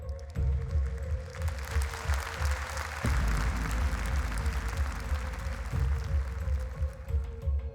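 An audience applauds steadily at the Miss Europe Continental beauty pageant as the top 10 are announced, a dense wash of clapping that holds strong throughout, with a faint tone hum underneath.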